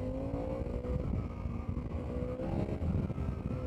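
A Harley-Davidson motorcycle engine accelerating hard on a demo ride, a loud steady roar with rising harmonic tones and rumbling low end that holds throughout, with wind buffeting mixed in.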